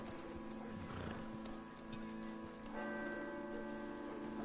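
Horses in Red Dead Redemption II give off a neigh and clip-clopping hooves over a steady bed of game ambience, with faint bells ringing in the background.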